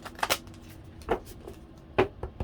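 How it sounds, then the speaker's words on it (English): A deck of oracle-style cards being given a big shuffle by hand, several quick riffling and slapping bursts spaced irregularly, close and fairly soft, with no talking. "let's do another big shuffle"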